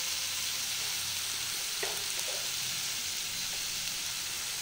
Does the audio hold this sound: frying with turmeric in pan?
yes